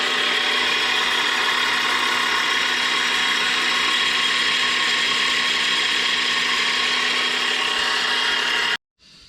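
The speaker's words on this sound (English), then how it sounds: "Let's set this up and start machining it. First cut in the aluminum." A lathe cuts aluminum on a Dasa 1100 10mm stroker powervalve two-stroke cylinder during a rebuild, a loud continuous grinding whir with a ratcheting edge that holds steady for nearly nine seconds, then cuts off abruptly.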